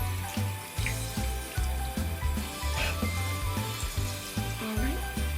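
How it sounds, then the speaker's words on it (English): Running tap water over hands rinsing off soap, a steady splashing rush with irregular thumps and sloshes as hands move under the stream, close and continuous. "scrub it all over your hands, and wash it all off"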